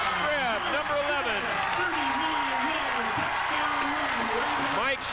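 Crowd roaring at a 1993 Gresham High School football game against the Barlow Bruins after a touchdown run, sustained steady cheering throughout with an announcer talking over it.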